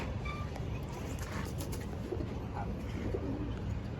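Khaki pigeons coo softly and steadily in a home loft, faint beneath a constant hiss of background noise.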